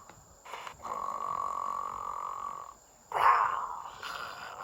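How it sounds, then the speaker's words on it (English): Two long, droning snores with a short pause between them, the second starting with a louder snort-like burst. "And except when the whole neighborhood snored."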